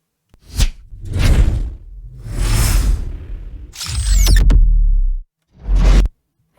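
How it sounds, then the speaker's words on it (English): A sequence of loud designed whoosh sound effects with a Doppler pitch shift, several sweeping passes in a row separated by brief gaps, each rising and falling as it rushes past, with no talking. "let's quickly listen to all the whooshes in this part"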